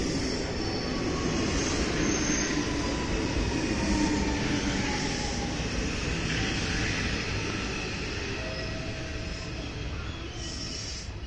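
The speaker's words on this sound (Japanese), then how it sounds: "向こうからも普通電車やってきました" A Hanshin local train bound for Kobe-Sannomiya rumbles into Daimotsu Station on a sharp curve, a steady rolling drone with squealing wheels and hum, moderately loud and continuous.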